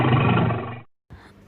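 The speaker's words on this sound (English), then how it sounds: "A bear growls." A bear gives one loud, deep growling roar lasting under a second, then the sound cuts to silence before a faint rumbling tail.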